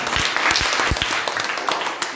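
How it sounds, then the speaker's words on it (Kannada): A crowd at a Bible quiz competition breaks into loud, close applause for a leading team. Individual sharp claps stand out within the dense clapping, which tapers slightly toward the end. "ಜೋರಾಗಿ ಚಪ್ಪಾಳೆ ಹೊಡೆಯೋಣ"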